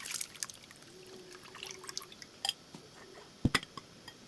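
Ingredients being rinsed in water while cooking minudo, with small drips, splashes and trickles coming close and scattered, some sharper splashes near the end, and no talking.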